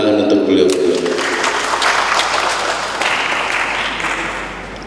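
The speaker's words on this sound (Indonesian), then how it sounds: "Tepuk tangan untuk beliau." Audience applause for an honored guest at an Indonesian gathering, a dense sustained wash of clapping that fills the room and fades slightly toward the end, with voices mixed in beneath it.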